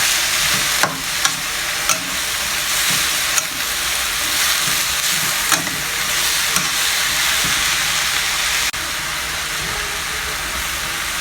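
Vegetables for a spring roll filling are stir-fried in a pan, sizzling loudly and continuously up close, with occasional clinks and scrapes of the spatula stirring through the hiss.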